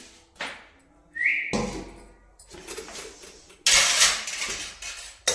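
Utensils set down and stacked while being put away in a home kitchen cupboard, with a few clattering knocks and a brief squeaky scrape, close and fairly loud, no talking.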